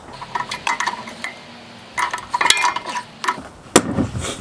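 A metal fitting is screwed back into a pressure washer, giving scattered light metallic clinks and scrapes in short bursts, with a sharper knock near the end.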